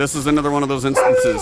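Husky dog yipping and howling in a drawn-out tone close by, overlapping someone talking during gameplay.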